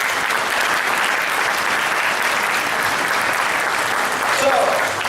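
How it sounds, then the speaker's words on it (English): Loud, sustained applause from a large crowd at an economic summit fills the whole stretch, with dense, even clapping that never lets up. "Please, another round of applause."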